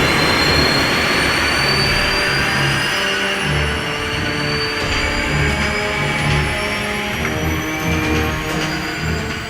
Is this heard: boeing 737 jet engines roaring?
yes